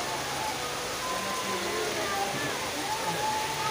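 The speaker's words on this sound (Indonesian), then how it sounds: "Ini di luar hujan." Rain falling outside during outdoor work, a steady broadband hiss of downpour that continues throughout, with faint voices and background noise mixed in.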